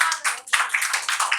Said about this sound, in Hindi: आप साहित्यिक रचना पे इतनी तालियां बजा रहे हैं